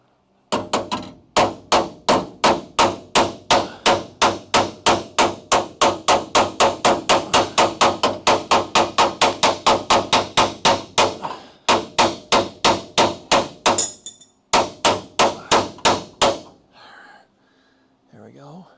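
Rapid, steady hammer blows ring out on metal against a handheld anvil during a Crew Cab Charger restoration, dozens of loud, evenly spaced strikes with brief pauses before the tapping trails off near the end.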